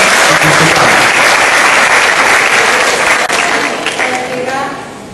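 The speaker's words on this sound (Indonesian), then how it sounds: "Tepuk tangan bersama dong." Loud, dense audience applause fills the hall at a university dean candidate election forum, sustained throughout and tapering slightly at the end.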